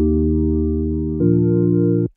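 Sky Keys plugin playing a sustained keyboard chord progression with no drip effect, for an Afro Swing beat: two held chords, the second entering just past halfway, loud and close, ending abruptly with no talk.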